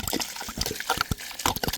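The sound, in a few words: washing cut snake gourd pieces in water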